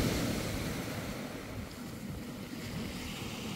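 Sea waves wash steadily onto a stone beach at Anapa, a continuous broad rushing wash with some wind noise, close and fairly even throughout, with no voices.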